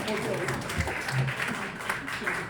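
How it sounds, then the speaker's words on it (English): An audience at a communication skills training session claps together, a dense continuous patter of applause at moderate volume, with a voice briefly heard through it. "All right, give yourselves a big round of applause."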